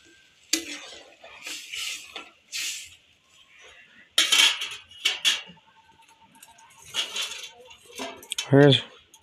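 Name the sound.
putting a lid on the cooking pot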